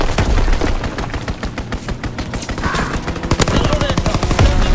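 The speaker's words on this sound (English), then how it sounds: "Enemy strafing run inbound." An enemy aircraft strafes the ground in the World War II shooter Call of Duty WWII, its rapid machine-gun bursts hammering loud and close without letup, with battle noise around them.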